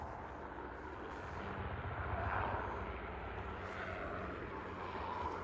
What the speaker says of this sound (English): you got so many helicopters flying around here